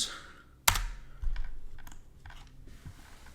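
Computer keyboard typing out an ad-headline prompt, a few close, sparse key clicks opening with one sharp press, followed by light scattered taps, no talking.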